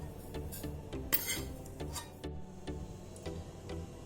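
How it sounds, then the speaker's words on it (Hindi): Roasted semolina being transferred from a pan into a bowl while making upma, with scattered metallic clinks and scrapes of utensil against cookware, fairly close and moderately quiet, no talking. "सूजी रोस्ट हो चुकी है, अब हम इसे बोल में निकाल लेते हैं।"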